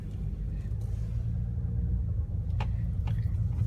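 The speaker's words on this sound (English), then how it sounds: "Just off idle, it's a little bit grumbly. Other than that, it's just very smooth and strong, and it just kind of hums at you when you push it." Diesel engine of a 2016 Audi Q5 TDI running while driving, a steady low grumbling hum with road rumble throughout, a couple of brief faint clicks near the end.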